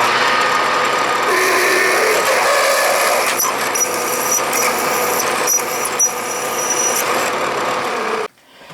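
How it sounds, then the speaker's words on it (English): A power drill whines steadily at high speed as it bores into metal for a gear cutting fixture, grinding continuously for several seconds before abruptly stopping. "And let's drill."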